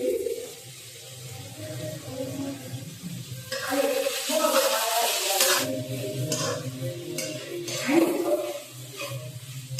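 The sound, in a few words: stir-frying capsicum and onion for Chinese noodles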